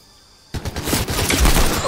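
Gunfire in an online shooter game breaks in after half a second of near quiet and turns into a dense, rattling volley of shots that grows louder toward the end.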